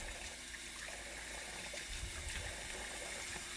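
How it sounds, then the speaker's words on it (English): Water runs continuously from a tap in a steady, low gushing stream, with no voices. "I have to run the water"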